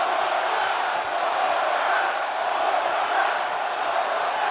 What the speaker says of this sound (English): Look at this crowd. It's insanity in here, bedlam.